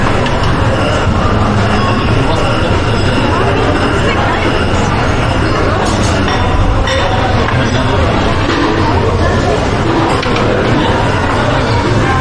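A passenger train with a buffet restaurant car rolls along steadily, a continuous loud rumble with wheel noise, heard from inside the carriage.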